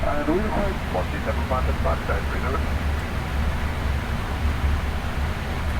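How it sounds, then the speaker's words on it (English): A Boeing 777-300ER roars steadily in the cockpit as it lands with full reverse thrust, a loud sustained rush under a pilot's talking. "But in order not to stress the brakes, we use full reverse and"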